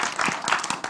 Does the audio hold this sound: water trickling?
no